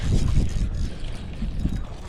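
Strong wind buffeting the microphone on open water while fishing from a boat on a lake, a steady low roaring rumble that gusts loudly throughout with no voices.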